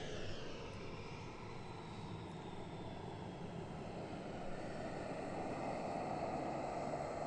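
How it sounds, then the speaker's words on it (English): A Norwegian airliner moving airside at Gatwick Airport produces a continuous, loud, broadband engine roar with a slowly shifting whine, steady throughout without pauses. "We'll just let the Norwegian go past"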